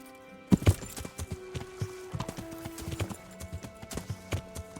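Horse hooves galloping in a video game, a quick uneven clip-clop of hoofbeats close by, fairly quiet with small clattery accents and no talking.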